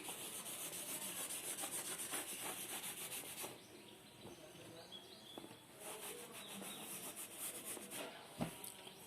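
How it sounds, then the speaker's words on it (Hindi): Rubbing on a board to clear space during a Hindi abstract algebra lecture, heard as steady broadband scrubbing strokes for several seconds, briefly pausing and then resuming with a few softer rubs. "यानी कि थोड़ा रब करना पड़ेगा इसे, जगह की कमी की वजह से थोड़ा सा ही कर सकती हूँ"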